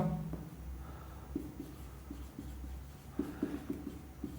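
Marker or chalk writing on a classroom board, faint scratchy strokes and light taps in short clusters, heard up close in a quiet space with low background hum.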